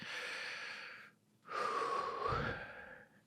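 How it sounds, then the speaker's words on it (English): A slow, deep breath taken close to the microphone: one long breathy inhale, a short pause, then a longer whooshing exhale that fades out, with no talking. "Nice big deep breath."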